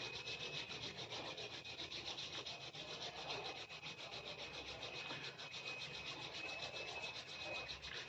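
Palms rubbing together briskly and continuously, a close, steady dry swishing friction that lasts throughout with an even rhythm, heard alone without talk.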